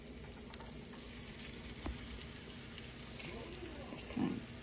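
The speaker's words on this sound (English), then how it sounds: "once you have your pan heated with your oil in it, then you're gonna add in the beef with the cornstarch" Beef coated in cornstarch frying in a hot oiled pan, a faint steady crackling sizzle with soft pops and a brief low bump, heard quietly without talk.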